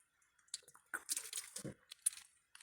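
Someone takes a few sips of water, with soft, close slurps and swallows coming in short irregular bursts separated by near silence, all quiet.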